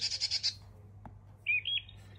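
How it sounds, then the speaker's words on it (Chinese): Bird song played by a children's electronic sound book, with a quick series of high chirps, a brief click, then a short whistled call over a low steady hum. "这一篇鸟儿，它就有这么多不同种类的鸟儿，而且都是属于它的鸟鸣声"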